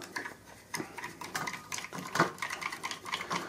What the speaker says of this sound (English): So let's get it in there. Lovely jubbly. Let's give it a stir.